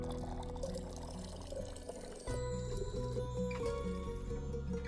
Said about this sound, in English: I pour in.